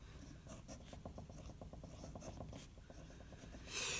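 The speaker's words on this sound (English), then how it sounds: "let's do a writing sample, see how the pen goes. We have the Parker Vector." A Parker Vector fountain pen with a European fine nib, inked with Lamy Turquoise, scratches across paper in a quick run of short, rhythmic strokes that are close and fairly quiet, with no talking.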